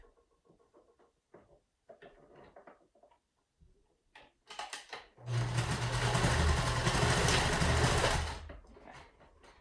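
Sewing machine stitching a pleated fabric face mask, a steady motor whir for about three seconds after a few soft handling clicks and taps.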